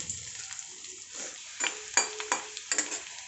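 Garlic pieces frying in hot oil in a pan, a quiet crackling sizzle broken by several scraping stirs and light clinks of a utensil, close up with no voices.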